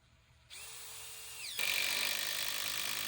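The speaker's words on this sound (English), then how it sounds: "Then I secured it with two 8-inch headlock deck screws." A power drill drives an 8-inch headlock deck screw into a 6x6 lumber post: one steady whining run that deepens and grows louder as the screw bites, recorded close and alone.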